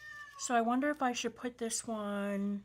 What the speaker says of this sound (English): that's my cat she's being vocal.